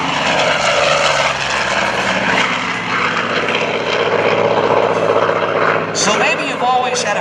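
A loud, droning piston engine of a Douglas A-1E Skyraider roars continuously nearby at an airshow, its pitch shifting slightly as it passes, with a voice speaking over it.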